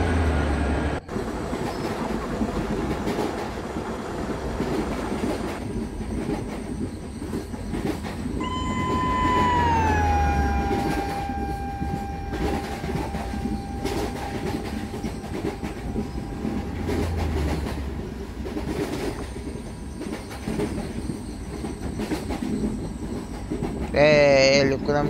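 An express train rolls steadily along the rails on a Kerala line, with continuous wheel rumble and clickety-clack, a passing horn-like tone midway and brief squealing near the end; faint voices are heard in the background.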